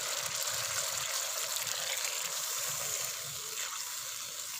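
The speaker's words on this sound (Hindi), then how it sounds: "दाल को अच्छी तरह भून लेने के बाद अब इसमें मैं आधा गिलास पानी शामिल करूँगा।" Half a glass of water poured into roasting urad lentils for village-style daal mash, giving a close, rushing gush and sizzle that fades slightly near the end.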